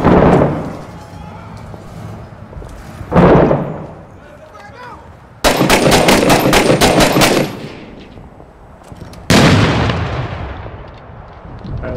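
Grenade blasts and automatic gunfire in the video game Six Days in Fallujah: three heavy booms each fading into a rumble, and a rapid burst of shots between them, loud and close.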